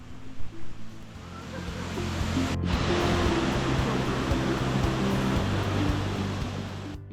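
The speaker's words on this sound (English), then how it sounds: "After walking for 1 hour, I finally heard the sound of the waterfall." Continuous broadband rush of a waterfall on Minoh Mountain in Japan, steady and fairly loud after a brief quieter start, with a momentary drop near the middle.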